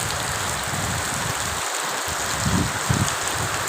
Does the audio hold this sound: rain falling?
yes